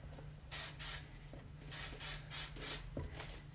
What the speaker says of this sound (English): So I'm going to spray my section here down with this.